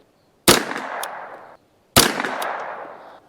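Two sharp shots from a custom Ruger 10/22 rifle with a Kidd barrel and Brownell's receiver, fired outdoors in a breezy field about one and a half seconds apart, each a loud crack followed by a short fading tail.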